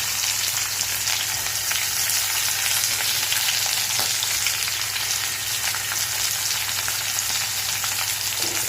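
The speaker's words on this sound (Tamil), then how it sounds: "வெங்காயம், பச்சை மிளகாவும் போட்டுக்கலாம்." Onions and green chilies frying in a pan of oil after mustard seeds have popped, a steady close sizzle with light stirring running throughout, no voices.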